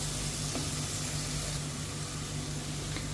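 Spices frying in oil for Kolkata-style mutton tahari: a steady, even sizzle over a low constant hum, with no voices.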